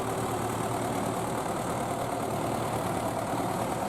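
A hired tractor fitted with a bucket idles while clearing heavy snow from a village yard, a steady mid-pitched engine drone heard close and unbroken throughout.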